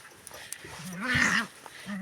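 A dog whimpers and gives a low growl at close range in a short burst, with soft human vocal sounds nearby.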